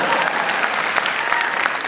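Audience applause at a Hindi stand-up comedy show, a dense steady burst of many hands clapping throughout, loud and close-sounding, without any distinct voices over it.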